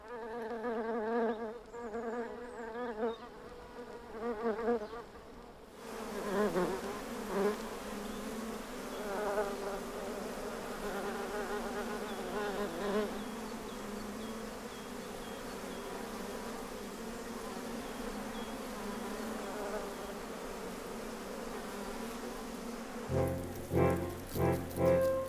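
A honeybee worker buzzes at a prickly pear flower, a steady close drone that shifts pitch as she moves, running continuously and alone.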